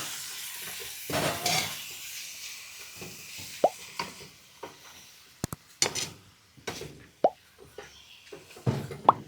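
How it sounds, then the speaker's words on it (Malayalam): Chicken pieces frying in hot coconut oil for an old-style Malabar chicken curry, with scattered sputtering pops, stirring clatter and sharp crackles over a steady low sizzle, with no talking. "വെളിച്ചെണ്ണ തെളിഞ്ഞപ്പോൾ നമ്മൾ ചിക്കൻ ഇട്ടു കേട്ടോ"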